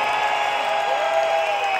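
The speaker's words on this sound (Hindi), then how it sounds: "ये शोर जरा तालियां सीटियां जरा बजाइए" At a live concert in Dallas, the crowd claps and whistles, with sustained whistle tones riding over a steady wash of applause for about two seconds.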